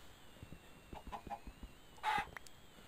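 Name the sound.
chickens clucking in a video game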